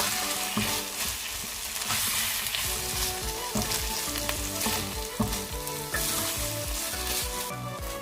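Chopped tomatoes sizzle and fry in a hot pan for tuna toast, a dense continuous crackle with occasional stirring clinks, close and steady throughout, no voices.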